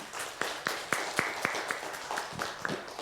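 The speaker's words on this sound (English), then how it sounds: "I want to give the organizers a round of applause" Applause from a keynote audience at a meetup in Montréal, a faint, sparse run of distinct claps spaced about a quarter second apart.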